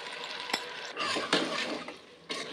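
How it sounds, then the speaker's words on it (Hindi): Rice pours into a pan of cooking tahari, a soft rustling, scraping rush with a few sharp clinks against the pan, close and moderately quiet. "अब इसमें मैं चावल डालूंगी"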